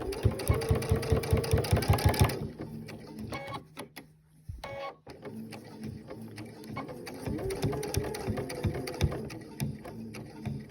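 A sewing machine stitches around the outside edge of a Dresden table topper in a close, rapid rhythmic run that halts, followed by quieter handling and clicks, then lighter intermittent stitching.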